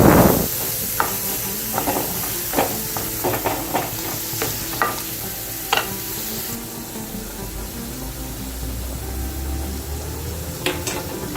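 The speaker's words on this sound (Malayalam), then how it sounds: "അതിനുശേഷം ഇതിലേക്ക് ചെറുതായി അരിഞ്ഞു വെച്ച 2 സവാള ചേർത്ത് വഴറ്റിയെടുക്കുക." Two finely chopped onions are sautéed in a pan, with a continuous sizzle under repeated spatula scrapes and taps. The stirring knocks come at an irregular rhythm, close and moderately loud.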